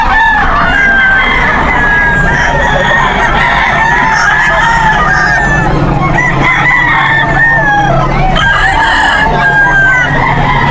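Bull stag rooster crowing repeatedly at the busy Bocaue pet market, with other fowl clucking and crowing around it in a loud, dense chorus.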